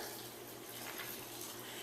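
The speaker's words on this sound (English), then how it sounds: "So we're going to add our water here." Water steadily poured into a pot of chipotle corn chowder, a soft continuous splashing and hissing stream that stays even and fairly quiet throughout, with no voices.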